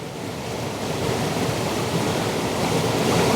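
A waterfall pours over rocks into flowing water in an autumn landscape, giving a dense, steady broadband rush that swells slightly louder toward the end, with no voices.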